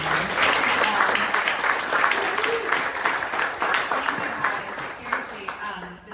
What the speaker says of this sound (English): can we just have a big round of applause for our team?